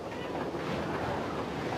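Ocean water churning and roaring steadily as the Margaret Jane, a fishing vessel carrying 18 fishermen, sinks and forms a whirlpool; a dense, continuous wash of surf and wind noise with no pauses.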